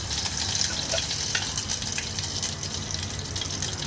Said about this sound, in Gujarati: રાઈ જીરું ફૂટ્યા બાદ 8-10 કઢી પત્તા નાખીશું